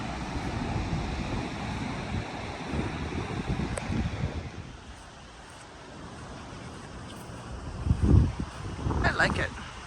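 Steady wind and surf at Ocean Isle Beach, North Carolina, a broad continuous rush with heavy wind buffeting on the microphone and a gust swelling near the end.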